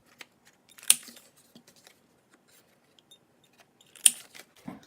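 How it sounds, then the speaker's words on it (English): A 1/2 inch corner rounder punches card corners in two sharp, crisp clicks a few seconds apart, close and quiet, with faint paper handling between. "I decided to round the corners here, and this is my 1/2 inch corner rounder."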